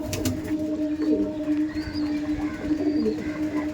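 Pigeons kept in a Howrah loft coo in a continuous low, murmuring drone, near and steady, with soft clicks and faint background noise.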